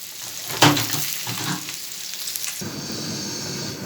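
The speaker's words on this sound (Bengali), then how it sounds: "আর এদিকে আমার মাছ ভাজাগুলো হয়ে গেছে, তুলে নেব" Fish frying in a hot pan sizzles steadily and close, with a sharp burst of spattering near the start and a brighter, hissing crackle toward the end; no voices.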